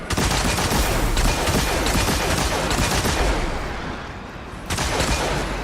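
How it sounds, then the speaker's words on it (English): Sporadic gunfire from a weapon in a video game crackles in loud, dense bursts, nearly continuous for several seconds with a brief dip before a final burst. "I'm not emptying the clip. I'm just kind of sporadic firing."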